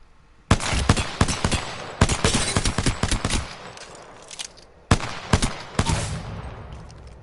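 Automatic weapon fire in Apex Legends during a recoil test, sounding as loud, rapid bursts of shots in two long strings separated by a brief pause, with no talking.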